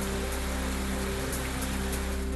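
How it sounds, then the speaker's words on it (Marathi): Light drizzle in Sindhudurg, a steady soft hiss of rain falling on surfaces with a constant low hum beneath, even and unbroken throughout with no voices. "सिंधुदुर्गच्या मालवण तालुक्यात पावसाची हजेरी तर कुडाळमध्ये देखील पावसाची रिमझिम"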